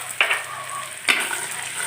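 Chopped onions frying in a pan with a little salt added, giving a steady close sizzle with two sharper bursts of stirring or scraping.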